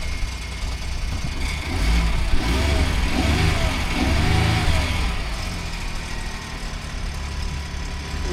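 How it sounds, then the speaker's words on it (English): A Ford 3.5 EcoBoost engine idles with a steady low rumble and a faint metallic rattle from a loose heat shield, close and continuous, swelling slightly mid-way before settling back. "There's a heat shield rattling right now, but it's definitely smoothed out."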